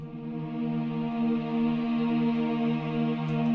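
A sustained 8Dio Insolidus choir chord holds steady and moderately loud as the final section of an orchestral demo, a smooth, even vowel tone with no talking.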